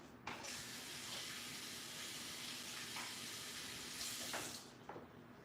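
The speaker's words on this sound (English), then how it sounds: "Let me wash my hands." Hands being washed under a running sink tap, a steady broadband rush of water that flows continuously for about five seconds, with a few small splashes from the hands and a brief swell near the end before the flow cuts off.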